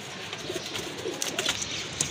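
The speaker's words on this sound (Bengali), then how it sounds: "কবুতরগুলো কিন্তু মাশাল্লাহ খুবই সুন্দর" Pigeons kept for sale cooing in short, soft bursts, with faint chirps over a low background.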